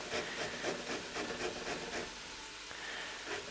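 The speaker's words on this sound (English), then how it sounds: "You want it on a coarse grater, not too fine." Broccoli stems are rubbed down a coarse grater in quick, even rasping strokes, a close scratchy rhythm that keeps up steadily and slows slightly near the end, with no voices.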